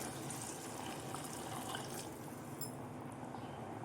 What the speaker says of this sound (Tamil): இப்போது தண்ணி சேர்த்துக்கலாம்